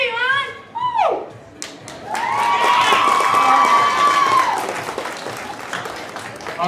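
A crowd cheers and claps at a cosplay walk-on at a fan convention, rising into a sustained roar with whoops and a long shout over the applause, close and loud before tapering off.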